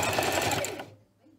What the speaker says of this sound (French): que vous allez surpiquer cette fois-ci tout le tour à 2 ou 3 mm du bord en point droit